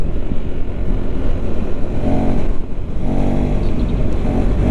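A KTM 390 SMC R single-cylinder motorcycle engine pulls hard under acceleration, a loud, close, continuous low roar that rises steadily with a brief dip midway.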